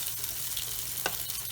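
Oil sizzling in a pan on the stove while homemade lasagna is prepared, a steady close hiss with a few small pops and crackles.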